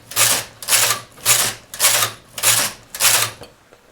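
Domestic knitting machine carriage passing back and forth across the needle bed while knitting rows of a short-rowed pinwheel baby blanket, six rhythmic rasping sweeps with a low mechanical hum, close and steady, no talking.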